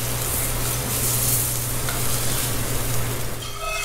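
Salmon fries in a small amount of oil in a pan, giving a steady, dense sizzle that holds evenly throughout at close range.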